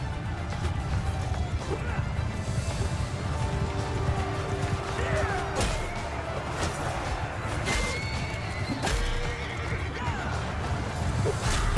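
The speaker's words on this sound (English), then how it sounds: "tons of horse archers just poured in" Horses neigh and whinny amid a dense, steady din of a large cavalry battle in a medieval strategy game, with horse archers charging, clashing impacts and crowd noise throughout.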